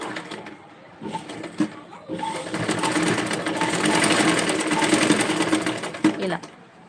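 Sewing machine stitching a work dress, its fast rattling whir swelling and easing in bursts, close up, while someone talks over it.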